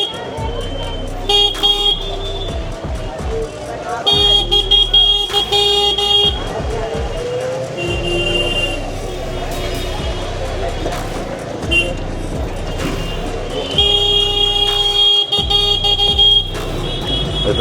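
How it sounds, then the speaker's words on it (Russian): A car horn at a busy wholesale market in India honks again and again in short, repeated blasts over steady road and engine noise, with voices talking throughout. "Это все наш водитель сигналит"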